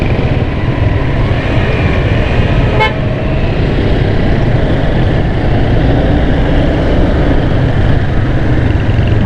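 A single car horn toots briefly above the loud, constant roar of jammed traffic on a busy Karachi street, engines and road noise filling the whole clip.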